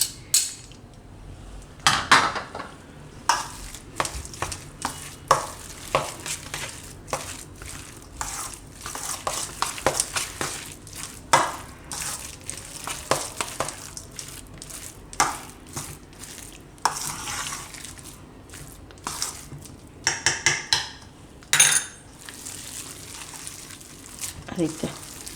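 A spoon repeatedly scrapes and clinks through mashed potato vada filling in a metal pot, in irregular bursts of mixing that run throughout at a moderate level.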